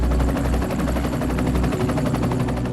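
A helicopter flies nearby, its rotor chopping in a steady, rapid, loud pulse over a continuous engine roar.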